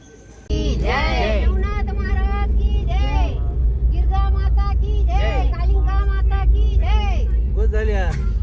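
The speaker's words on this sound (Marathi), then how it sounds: "आपले ज्ञानो आलेले गाडी घेऊन" A car engine starts rumbling about half a second in and keeps up a steady, close, low drone for the rest of the clip, while people talk over it almost continuously.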